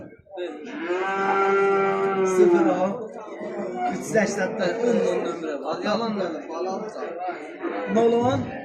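Male calves moo at a livestock market selling sheep, goats and cattle, a long close bellow at the start followed by further overlapping calls under a market trader's ongoing talk.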